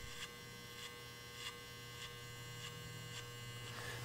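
Electric hair clipper running during a child's haircut, a quiet steady buzzing hum with faint periodic clicks, heard alone without talk.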